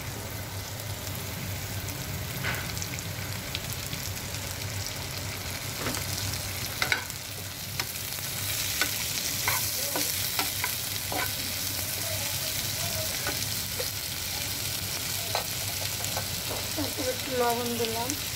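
Garlic and onion sizzle steadily in a pan as chopped tomato goes in for a tomato bhaji, a continuous close frying hiss with intermittent stirring scrapes and a brief voice near the end.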